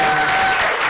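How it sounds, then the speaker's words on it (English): A stand-up comedy audience applauds a comedian, loud close and steady clapping filling the whole brief moment. "round of applause for Steve"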